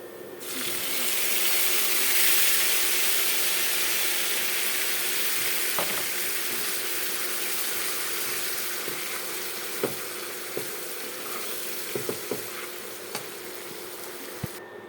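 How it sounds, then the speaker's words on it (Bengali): Dried loitta fish coated with turmeric, salt, chili powder and plenty of garlic paste fries in hot oil, giving a continuous loud sizzle broken by a few sharp pops and stirring clicks, with no voices. "এখন এটা আমি তেলের মধ্যে দিয়ে ভাজবো।"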